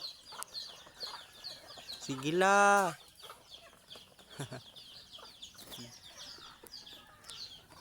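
Chickens cluck and murmur while being fed, a scattered chorus of short calls around a single louder, drawn-out squawk, with a person speaking briefly nearby.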